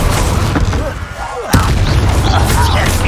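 An Incendio fire spell cast in Hogwarts Legacy lands as a sudden loud burst partway through, surrounded by steady rumbling combat noise.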